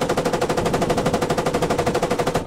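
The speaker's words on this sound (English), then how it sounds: "That's friendly tank shooting." Rapid, sustained automatic gunfire from a friendly tank in the military video game Squad, loud and close with an even, driving rhythm of shots for the whole stretch.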